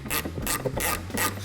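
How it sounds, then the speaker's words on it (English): A 5mm Allen key turns wide flathead bolts under a car's trunk lid, giving four rhythmic bursts of close metallic ratcheting and scraping with short pauses between them. "We'll put a 5mm Allen key in here."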